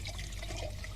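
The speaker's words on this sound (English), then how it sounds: "Now, I just fill the tank with water." Water is poured steadily into a small toy tank, giving a soft, continuous trickle that runs for about a second with no talk over it.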